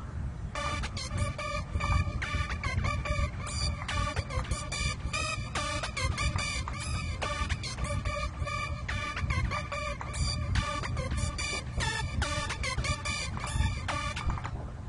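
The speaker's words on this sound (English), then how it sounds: "I increased the arpeggiator a little bit to make it sound like this." A fast synth arpeggio from an arpeggiator in a type beat ripples in quick repeating note patterns over a low bass bed, steady and moderately loud throughout.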